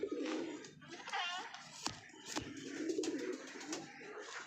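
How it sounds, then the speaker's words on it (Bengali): Pigeons coo repeatedly while feeding, their soft throaty calls overlapping in a steady murmur alongside a few brief knocks and rustles, with birds both inside and outside the coop. "এখানে আছে সব পায়রাগুলো খাবার খাচ্ছে, পায়রা ভিতরেও আছে বাইরেও আছে।"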